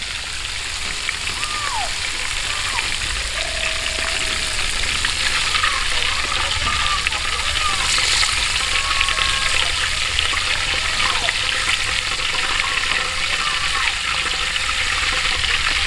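A whole chicken deep-fries in hot oil outdoors, giving a steady, loud, continuous sizzle and bubbling with faint chirps in the background.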